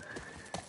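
A horse's hooves clop along at a walk in The Last of Us Part I, a few soft, even steps heard close by with no talking.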